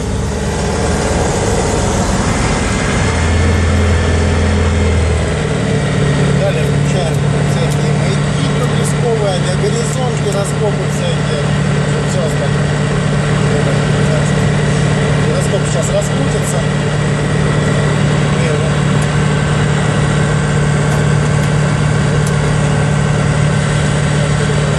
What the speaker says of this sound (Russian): Чуть-чуть газу. Запускаем двигатель.